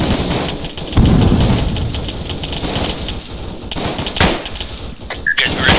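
Gunfire in the military shooter Arma 3 during a joint squad operation pushing toward a bunker: rolling, booming bursts and cracks that merge into a continuous rumble, loud and fairly distant, with sharper reports near the end.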